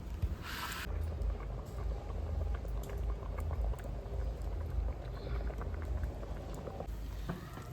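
Rice boiling vigorously in a pot over a wood-fired village stove while cooking egg biryani, a dense continuous bubbling and gurgling close by, with a brief clatter near the start.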